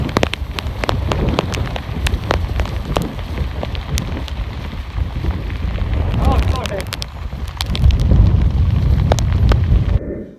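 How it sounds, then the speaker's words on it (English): Strong wind gusting across a boggy moorland while wild camping in the UK, a loud, rough roar buffeting close up throughout and swelling harder near the end, with a brief voice faintly underneath. "even there, the wind was just too strong"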